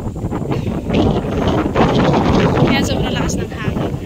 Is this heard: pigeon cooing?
no